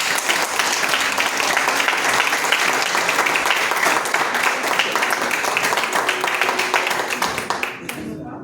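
Congregation applauding in a church during a Pentecost service, a loud, dense burst of many hands clapping continuously for several seconds before abruptly dropping off, with a few voices faintly beneath.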